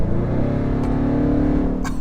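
Land Rover Defender P525 V8 engine accelerating, a loud gruff roar with a rising tone held for about two seconds, close and alone.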